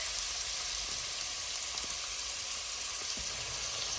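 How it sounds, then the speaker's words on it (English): Vegetables and garlic paste sauté in hot oil in a pan for beef stew, giving a steady, loud, dense sizzle that hisses continuously from start to finish, with no talking. "We're gonna saute these for about a minute."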